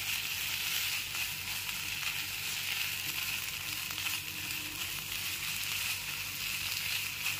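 Lote fish jhuri fries in a pan with chopped coriander stirred through, a close, steady crackling sizzle that runs unbroken with no voices.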